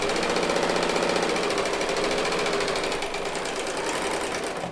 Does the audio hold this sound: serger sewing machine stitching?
yes